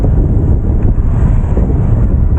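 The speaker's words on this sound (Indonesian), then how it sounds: "Angin juga tidak separah tadi" Strong wind buffets the microphone in a steady low roar during a bicycle ride on a hot day, loud and constant with no other sounds standing out.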